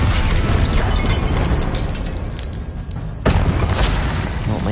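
A Confringo fire spell exploding in the wizarding game Hogwarts Legacy: a loud, dense burst of blasting and crashing noise with a sharp renewed hit toward the end, with no talk over it.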